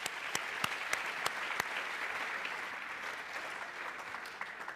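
Steady applause from an audience at an agri-entrepreneurship township summit, broad and sustained clapping with a few sharper nearby claps standing out, no voices over it.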